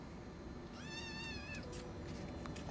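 A cat gives a single drawn-out, wavering meow near the middle, fairly clear over a low background rumble, followed by a few faint clicks.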